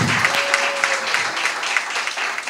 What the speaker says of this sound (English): Big round of applause for Rangbaz and team.